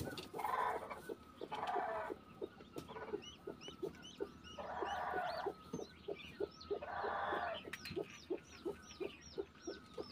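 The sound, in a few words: chicken clucking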